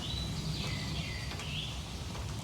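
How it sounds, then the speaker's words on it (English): A bird sings a high, thin warbling phrase against a steady background of rain dripping from gutters and low rumble. "I hear a bird right there and I don't know what it is."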